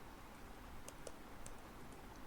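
Short, faint burst of computer keyboard typing in a quiet room, a handful of light separate key clicks spread over a couple of seconds.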